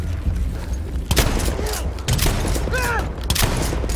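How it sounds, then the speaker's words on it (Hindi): Heavy battlefield gunfire in Battlefield 1, with two loud cannon-like booms from a tank a second apart amid rumbling explosions and shots. Someone talks briefly over the din. "अबे तेरी तोप मार रहा है मुझे।"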